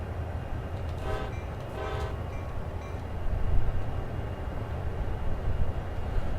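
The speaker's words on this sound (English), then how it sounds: "It's an air horn." Air horn on a CSX locomotive gives two short blasts over a constant rumbling train and engine background that swells slightly toward the end.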